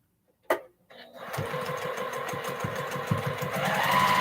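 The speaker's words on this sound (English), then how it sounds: "It's sewing." Sewing machine stitching a postage stamp quilt top, starting with a sharp click and then running in a steady, fast, close mechanical whir with rapid rhythmic needle beats that build slightly louder toward the end.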